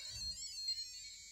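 A piezo buzzer driven by an Arduino and an ultrasonic sensor squeals with a thin, high-pitched, wavering tone, faint and continuous over a low background hum.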